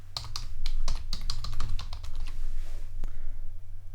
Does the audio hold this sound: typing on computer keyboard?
yes